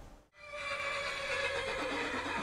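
After a brief silence, a horse in the video game Skyrim neighs in a long, loud, wavering whinny that fills the rest of the clip.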